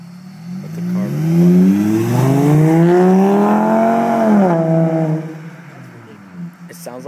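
A VW MKV Jetta 2.5 with an AWE cat-back exhaust pulls away, its engine note climbing and holding strong for several seconds before dropping off, close by, with voices nearby.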